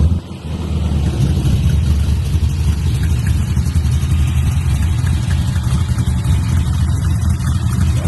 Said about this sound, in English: I got a little exhaust leak right there from that